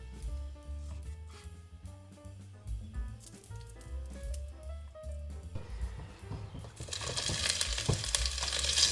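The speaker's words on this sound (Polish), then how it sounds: "Boczek i cebulę wrzucam do garnka z odrobiną tłuszczu i smażę." Diced bacon and onion frying in a little fat in a pot, a soft sizzle and crackle under background music that swells into a louder hiss near the end.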